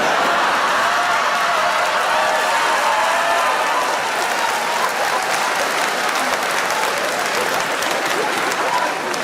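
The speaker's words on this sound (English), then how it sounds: "even though you're clapping and you're cheering" A comedy show audience bursts into sustained applause and cheering, a dense, loud wash of clapping that continues steadily for several seconds before easing slightly.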